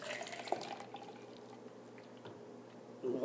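Milk is poured into a shaker cup for a French Vanilla G Fuel drink, giving a faint, steady liquid trickle with a few small drips, heard alone at low volume.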